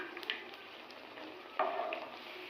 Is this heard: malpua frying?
yes